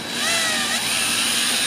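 A power drill drives a 1.5-inch screw into a shed foundation, a loud, close, continuous whine that rises as it spins up, dips briefly mid-run and then holds steady.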